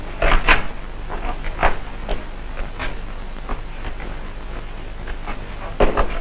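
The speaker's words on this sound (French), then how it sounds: "Tire la porte." A door being pulled shut in a 1957 spy film scene, with a few sharp wooden knocks and latch clicks set against a steady background hiss and no talking.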